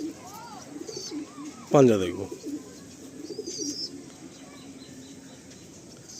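A black-feathered Madrasi pigeon coos in soft, low phrases close by, while someone speaks over it and a brief sharper burst of sound cuts in partway through.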